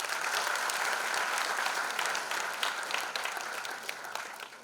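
A large concert audience applauding steadily, a dense wash of clapping that holds loud throughout and only slightly eases toward the end.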